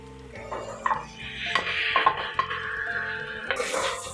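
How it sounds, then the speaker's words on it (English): A spoon stirs marinated mutton, coated in ginger garlic paste, lemon and salt, into masala in a pot for Parsi dhansak, giving repeated metallic clinks and scrapes against the pot over a soft sizzle, close and without speech. "Give it a nice stir so the masala coats the mutton pieces well."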